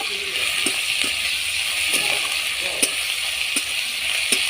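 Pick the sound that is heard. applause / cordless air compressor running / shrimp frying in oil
shrimp frying in oil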